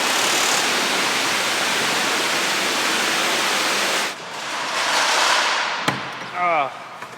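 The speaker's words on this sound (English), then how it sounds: "I wonder if you're just gonna pressure wash this cab out?" A pressure washer sprays water to clean out a dirty truck cab, a loud, steady rushing hiss for about four seconds that then drops to a softer spray, with a sharp knock and a brief rising squeal near the end.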